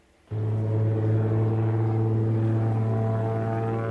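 Propeller airplane performing aerobatics, its engine kicking in abruptly and then holding a loud, steady droning tone with a strong low hum, close and alone without voices.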